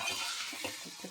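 Beans tipped into a frying pan of hot oil with turmeric set off a soft, bright sizzle with light stirring clatter and a few dull knocks, faint and close.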